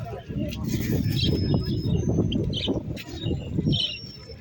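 Pigeons cooing and calling at a pigeon show and fair, a steady crowd murmur and people talking underneath with scattered chirps over the background.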